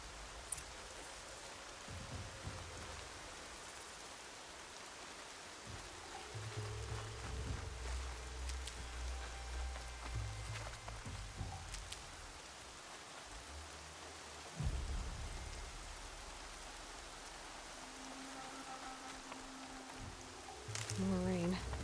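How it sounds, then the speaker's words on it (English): Steady rain falling in the video game Horizon Zero Dawn Remastered, a soft constant hiss with low rumbling swells and occasional brief effects, fairly quiet throughout. "More rain. My boots will get damp."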